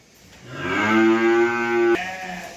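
A Holstein Friesian heifer on a farm lets out a single loud, drawn-out moo close by, rising in strength and then cutting off after about a second and a half.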